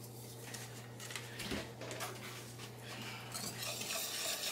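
Fruit jelly mixture being whisked in a pot, a steady scraping swish of the whisk against metal with a low hum underneath, getting a little busier toward the end.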